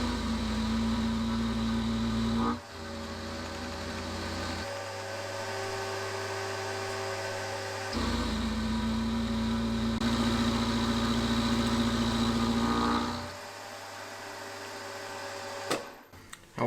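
A metal-cutting milling machine steadily cuts a 14 degree angle with an end mill, its close, steady motor hum with a tonal whine shifting in pitch between passes and then briefly stopping near the end.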